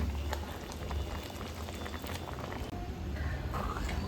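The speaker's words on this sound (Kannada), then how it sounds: "ಈ ಹದದಲ್ಲಿ ಕೆಸದಂಟನ ಬೇಯಿಸ್ಕೊಂಡಿರಬೇಕು" A pot of colocasia stem curry with beans simmers at a steady bubbling boil, soft and continuous, with faint pops and no voices.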